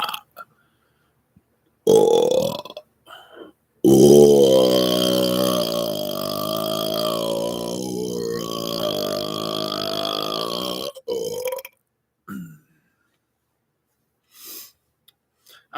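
A person burps loudly and close up: a short belch, then a long drawn-out burp lasting several seconds, followed by a few brief trailing sounds amid silence.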